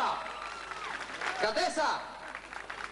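An audience applauds at a Bulgarian recording event, moderate clapping rising and swelling in the middle while someone speaks over it through the loudspeakers.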